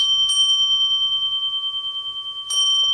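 A zendo bell struck by the Jikijitsu during Zen practice: two clear metallic strikes a couple of seconds apart, each leaving a long, steady, ringing tone that sustains throughout.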